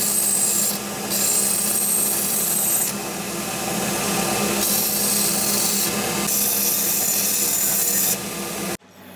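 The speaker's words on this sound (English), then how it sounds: "I'm still gonna grind that a little bit on a chamfer" A KLR 650 motorcycle kickstand being ground with a chamfer before welding: a loud, continuous, rough grinding that shifts slightly in pitch in several passes, then cuts off abruptly near the end.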